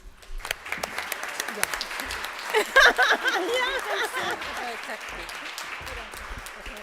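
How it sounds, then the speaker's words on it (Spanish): Applause from the audience at a congress session on the separation of Church and State in Chile, dense clapping that swells midway, with voices talking over it throughout. "porque creo que también se merece otro aplauso"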